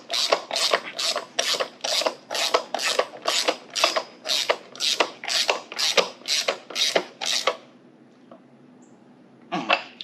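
Nineteen and seventeen wrenches work an axle bolt on a Go Power Sports MB200 minibike, giving a close, steady series of about fourteen evenly spaced rasping ratchet strokes. The strokes stop for a short pause, then one more follows.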